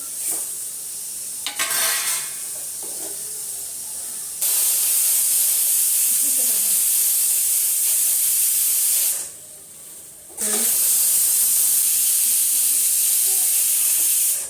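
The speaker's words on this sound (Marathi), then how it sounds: "चला बघा त्यांना शेवया फोडणी देऊन देते फक्त" Vermicelli goes into a hot spiced tempering and sets off a loud, steady hissing sizzle close by, with stirring noises, a brief drop in the middle, then the sizzle returns.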